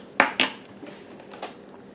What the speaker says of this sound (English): Scrape that and get all the goodies out.